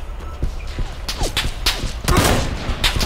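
Rapid bursts of gunshots crackle amid PUBG game action, sharp cracks scattered over about three seconds with background rumble.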